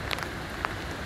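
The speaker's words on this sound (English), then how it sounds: "I'm not sure if you can hear me over the rain" Heavy rain from Hurricane Sally pours steadily onto surfaces, a dense unbroken hiss with a couple of brief sharper drop impacts.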